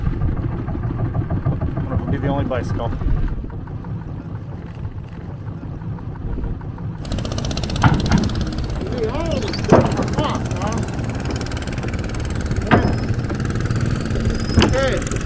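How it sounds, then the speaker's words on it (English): Scooter engines on Koh Klang island hum and idle steadily nearby in a busy outdoor setting, with a few louder passing buzzes, while people talk over them. "A lot of scooters on this island."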